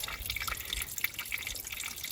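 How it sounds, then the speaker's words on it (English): A very low trickle of water from a small stream on a hiking trail, soft bubbling drips and splashes running continuously and close by, with no voices. "If you can see this really low trickle there."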